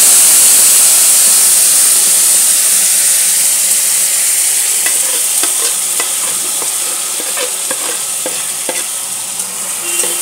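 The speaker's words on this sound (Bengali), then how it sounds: "আর দেখুন এর মধ্যে আমার আছে টমেটো, আদা বাটা, চিনি, নুন, লঙ্কার গুঁড়ো, হলুদ গুঁড়ো, এগুলো আমি সব এতে ঢেলে দিলাম।" Tomato, ginger paste, sugar, salt, chilli and turmeric powder sizzle loudly in cumin-tempered oil in a pan, a steady close hiss with scattered pops and the scrape of stirring, and no one talking.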